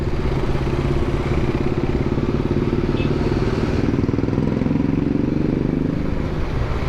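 A motorbike engine runs steadily throughout while riding on a hot road in Chennai near Sholinganallur, a close, continuous mid-pitched drone with constant loudness and no talking.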